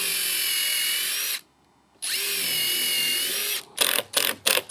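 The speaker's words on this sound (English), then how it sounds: "Now we're gonna pre-drill through these two holes and add 2 3-inch screws" A power drill pre-drills screw holes in a TimberTech Classic composite deck rail: two sustained high whines separated by a brief pause, then several short bursts of the drill.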